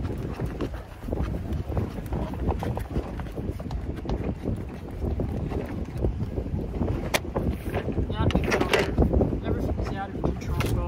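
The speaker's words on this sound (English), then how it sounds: "So damn windy." Strong gusting wind buffets the microphone beside a fishing boat out on the water, a steady loud roar with rumbling low-end bursts, heaviest toward the end.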